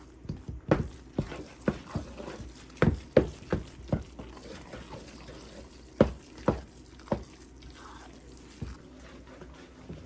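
A sweet potato pudding mixture is worked together with flour by hand, giving a series of irregular soft, squelching thuds, about a dozen close strokes spaced unevenly with quiet gaps between.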